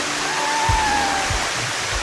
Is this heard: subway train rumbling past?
no